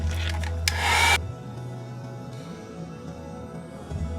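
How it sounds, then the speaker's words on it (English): A heat gun blows on a mixed media piece in a short, loud, close burst of rushing air that cuts off abruptly, followed by a low steady hum in a quiet room. "we're going to take the heat gun"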